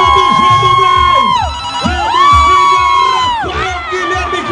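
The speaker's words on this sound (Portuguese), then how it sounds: "Rafael Guilherme, cadê o grito da galera?" A rodeo crowd shouts and cheers loudly alongside a blaring announcer's voice with wavering, horn-like tones swooping up and down throughout.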